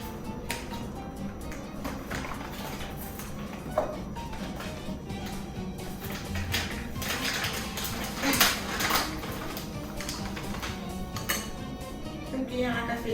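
Flour and baking powder being mixed in a bowl for cookie dough, with repeated clinks and scrapes of a utensil against the bowl, quiet and close, alongside intermittent talking.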